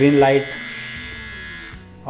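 An electric beard trimmer, a budget model, buzzing steadily at close range for a couple of seconds after being switched on, with a brief louder burst at the start and a cut-off at the end.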